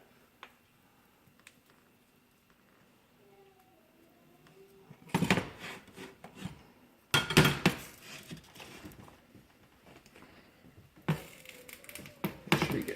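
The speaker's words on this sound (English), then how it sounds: "Make sure all that condensed milk and butter gets mixed in with your chocolate." Spoon scraping and clinking against a pot or bowl while condensed milk and butter are stirred into melted chocolate, in short bursts of metallic taps and scrapes that grow louder after a quiet opening.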